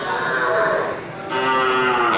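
Cattle in a barn, large bulls and breeding cows, mooing loudly and close by in two drawn-out calls, one after the other with a short dip between them.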